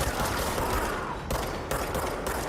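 Rapid hip-fired gunshots from a sidearm in Control, a loud dense volley of overlapping reports with a brief gap midway, heavy game combat noise filling the whole stretch.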